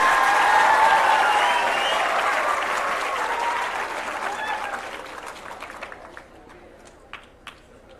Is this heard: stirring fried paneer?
no